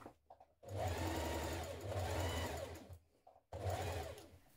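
A sewing machine stitches a lace border onto fabric for underwear. The motor runs loud and steady in two long bursts, separated by a brief pause.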